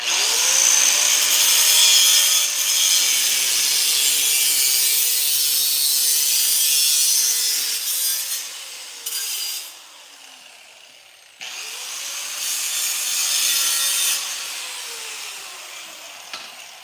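Metal parts for a mining cart are cut with a power tool in two long bursts, a harsh rasping grind rising and falling in pitch, close and loud with a brief pause between passes.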